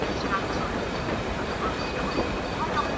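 A passenger train rumbles steadily at a railway station, with continuous rolling wagon noise and faint clicking of wheels on the rails. No distinct voices stand out above the rumble.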